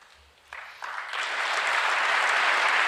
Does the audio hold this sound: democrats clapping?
yes